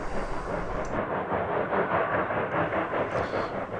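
Cumbres & Toltec narrow-gauge train runs near Cumbres Pass at 10,015 feet, a steady rumbling roll of wheels and cars with a continuous low, dense rush of sound close by.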